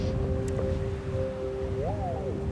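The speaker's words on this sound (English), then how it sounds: "It's very windy." Steady wind rumbles and buffets continuously outdoors at night by a crumbling castle, with a faint droning tone running underneath.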